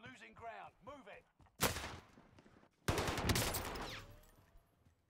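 Gunfire in the battle royale game Call of Duty Warzone: a sudden loud burst, then a longer sustained volley fading slowly, after a stretch of game voice chatter.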